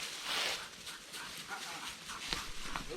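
A hunting dog out on a January squirrel hunt whimpers and pants in short, high whines over outdoor rustling, close to the microphone.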